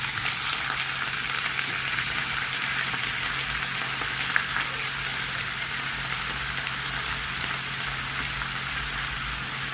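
Fresh squid frying in a pan with onion and garlic for adobong pusit, a loud, dense, continuous sizzle that crackles evenly throughout with no pauses.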